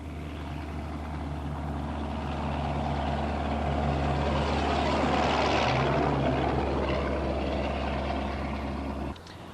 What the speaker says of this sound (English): This Foden, a 1960 S20, was captured climbing in the bleak landscape of Shap Fell.